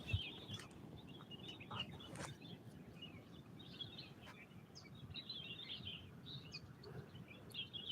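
Birds chirp and call at sunrise outdoors, a scattering of small tweets and brief trills over a soft, steady background hush, fairly distant and never very loud.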